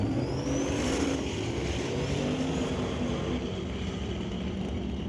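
A drag racing wagon makes a qualifying run at a drag strip, heard as a steady engine roar at a distance, moderately loud and fairly constant throughout, with no one speaking.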